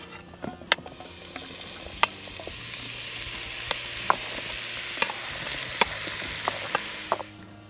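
London broil beef sears hard over a charcoal grill, a steady loud sizzle running throughout with sharp crackles and pops scattered across it, no voices.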